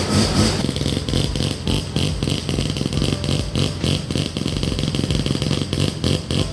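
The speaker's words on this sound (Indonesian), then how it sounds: "Gue suka mesin rotari, lebih suka NA dibanding turbo karena suaranya lebih keluar" A naturally aspirated rotary car engine runs loudly nearby with a buzzy, rapid, pulsing exhaust note that holds fairly steady throughout.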